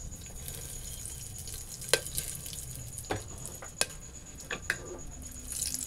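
Cloves, star anise, cinnamon and bay leaf temper in hot oil for a ghee chicken dish, a quiet steady sizzle broken by scattered sharp pops and clicks.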